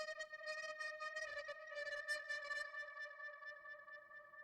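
Reversed vocal one shot heavy with crazy effects, a rising, swelling sung tone with shimmering, echoing, wobbling overtones and stuttering flutter in the first half, fairly quiet and without speech.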